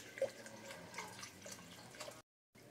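Liquid being poured into a pan of gravy, a soft continuous trickle and splash close by that cuts off abruptly near the end, with no talk.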